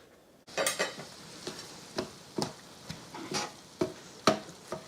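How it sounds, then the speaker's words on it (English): Sausage is worked into crumbles in a pan for sausage gravy: a string of rhythmic scraping and tapping strokes from a utensil against the pan, close, over a faint background sizzle. "We're going to work with the sausage until it's a nice crumble."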